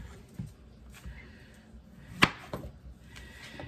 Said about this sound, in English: Next up, we're going to prep up our zucchini. Just cut off the ends of it.